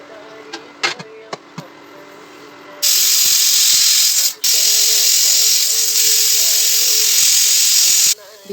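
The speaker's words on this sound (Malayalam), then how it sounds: "ബീഫ് വിസിലൊക്കെ വന്നിട്ടോ." A pressure cooker of beef for kurma, cooking in an outdoor village kitchen, lets out a loud, sustained steam hiss close by for several seconds, with a brief break, after a few quiet clicks and knocks.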